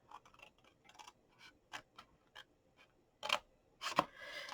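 Scissors snip through card for a sweet treat box, a faint sequence of small dry clicks and cuts with a few sharper, louder snips near the end, close by with no talking.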